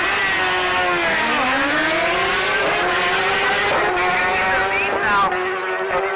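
A drag racing motorcycle at a national motorcycle drags meet launches off the line, its engine screaming and rising steeply in pitch through the gears, loud and close, sweeping up again near the end, with an announcer talking over it.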